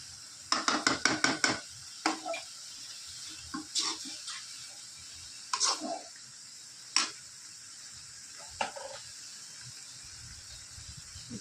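Homemade chili powder stirred and sautéed in a pan with a spoon, giving a quick run of close scraping clicks and then scattered, sparser taps and scrapes over a quiet background.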